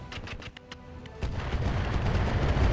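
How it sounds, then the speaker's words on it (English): LRM-20 missile salvo fired at a Long Tom turret in the RogueTech mech battle game, a volley of rapid launch bangs that builds into a dense, rumbling roar of impacts and blasts. "We're going to fire our LRM-20 at the long tom turret and hope to break through its armor."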